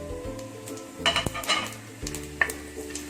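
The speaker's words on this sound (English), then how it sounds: "So now pan is nice and hot. Let's add our whole spices" Whole spices crackle and sizzle in hot ghee in a pan while a spoon stirs and scrapes, with clinks and a sharp knock against the metal at close range.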